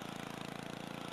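A small lawnmower engine in Happy Wheels runs steadily with a rapid, even putter, loud and buzzy, with no talking over it.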